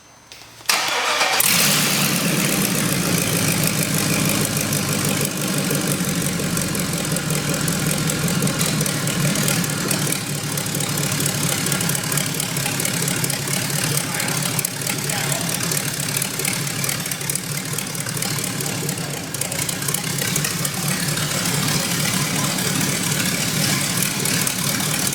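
An LS V8 swapped into a Miata-based kart cranks and fires within the first second, then settles into a loud, steady, close idle with a rough mechanical chatter that holds unchanged to the end.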